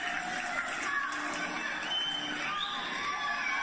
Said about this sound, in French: Et à la fin ils nous applaudissent.